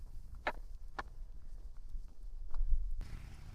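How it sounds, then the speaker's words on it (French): Horses on a windy Dutch roadside en route to Texel, with a couple of soft hoof clops and thuds heard at a distance over steady wind noise and low rumble. "Des beaux chevaux encore."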